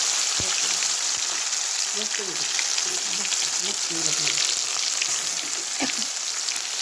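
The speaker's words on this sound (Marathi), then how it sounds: "आणि हा चांगला तेलात भाजून घ्यायचा मसाला" Ground spice paste for Maharashtrian misal fries in hot oil, giving a steady, even sizzle throughout, with a quiet voice murmuring faintly underneath for a few seconds.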